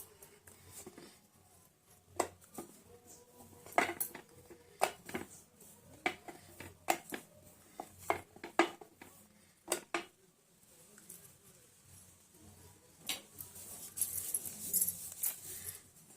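Wheat dough balls for spicy puri are rolled out with a rolling pin, making irregular soft taps and clicks close by, separated by quiet gaps.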